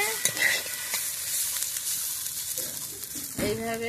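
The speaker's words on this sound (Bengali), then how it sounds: "মেলে মেলে দিয়ে আমি ভেজে নেব, দেখতে থাকো।" Boiled potato and pumpkin peels spread out and frying in a hot pan, a steady sizzle throughout with a few brief clinks and scrapes; voices briefly surface near the end.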